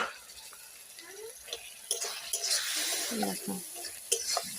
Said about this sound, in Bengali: আমরা এখন ভালো করে মশলাটা ভেজে নিই।